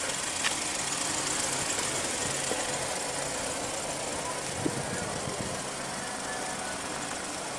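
A 2016 Ford Escape SE's 1.6 L turbo four-cylinder runs with a steady, even hum and a broad hiss, close and continuous with a few faint ticks.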